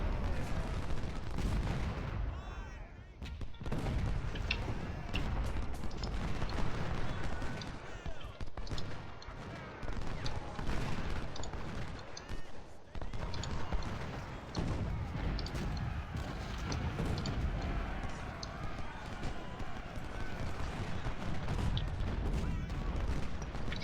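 Civil War artillery and musket fire in Ultimate General Civil War, a dense continuous barrage of booms and crackling volleys with heavy rumble, loud and unbroken throughout.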